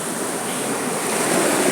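Ocean waves break and wash on a beach in a steady broad roar of surf, with some wind noise across the microphone and no voices.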